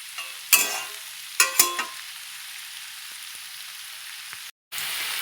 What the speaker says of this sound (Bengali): আমি গাজরটা ভাজি ততক্ষণ।